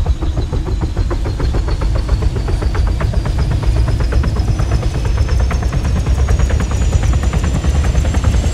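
Helicopter in the military video game Arma 3, a loud, close, continuous rotor thump over a steady turbine whine, unbroken throughout with no talk.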